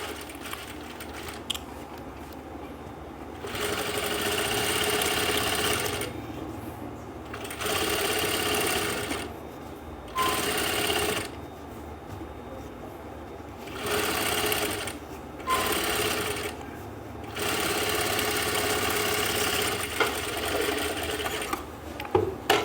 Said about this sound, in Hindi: पहले तो ये सिलाई लगाते हैं यहाँ से किनारे वाली